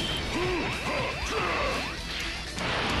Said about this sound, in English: Am I going to get environment smashed again?